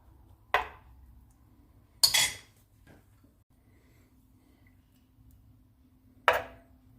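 Onion being cut with a knife on a board, with three sharp, separate chops spaced a second or more apart in a quiet kitchen.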